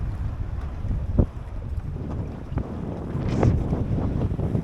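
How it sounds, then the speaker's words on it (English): Wind buffets and rumbles continuously against the microphone aboard a Drascombe Lugger sailboat on open water, swelling in gusts with a few brief knocks and creaks mixed in. "wind is really picked up. Look at the gusts on the water."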